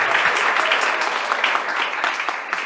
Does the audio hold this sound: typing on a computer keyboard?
no